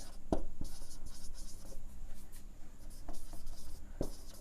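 Pen strokes scratch across paper while an example sentence is written, a close continuous rubbing broken by a few sharper taps.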